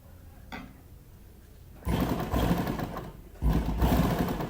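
A sewing machine stitching a chenille shirt being altered at home, with newspaper laid under the seams, runs in two loud bursts after a quieter, low-level opening.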